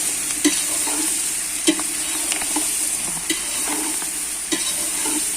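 Vegetables for bograch frying in a pot over a campfire, a constant bright sizzle with regular clanking stirs and scrapes recurring every second or so, close up and without talk.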